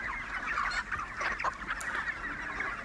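Three-month-old chickens being raised for Tet crowd together in a pen, giving a dense chorus of clucking and squawking calls, close and continuous with no speech.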